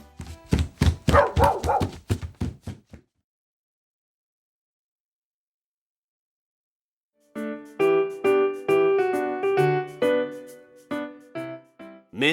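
An animated story's dog barks in a quick burst of several sharp yips. A silent gap follows, then a longer run of tonal, whining barks and yelps.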